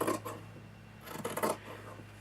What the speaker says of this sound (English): And I'm going to cut that.